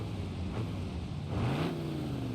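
A Bruckell Nine car engine in BeamNG.drive revs up briefly, with a steady mid-pitched drone that rises in pitch near the end.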